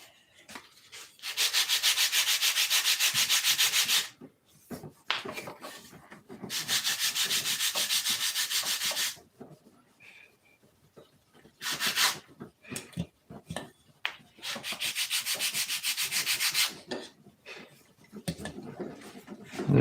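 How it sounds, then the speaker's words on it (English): A sanding block scrubs a surface with 80 grit in four long bouts of loud, close rasping strokes, each lasting a few seconds, separated by quiet pauses with light handling noises. "There's a sanding block down there handy underneath that table right there."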